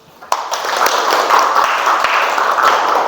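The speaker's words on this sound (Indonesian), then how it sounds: "beri aplaus" Sustained applause from a classroom audience during a peer-teaching lesson, starting abruptly and continuing as steady, dense clapping at fairly close range.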